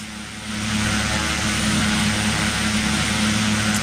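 Carenado PC12 turboprop in a flight simulator, a steady, loud drone of engine and propeller that holds without a break, with a low hum underneath and a brief rise in level near the start.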